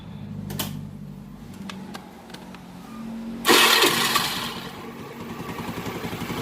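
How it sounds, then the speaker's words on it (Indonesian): A motorcycle engine cranks briefly, then catches and roars to life before settling into a steady, close idle. "Nah, kemudian mesin kita hidupkan"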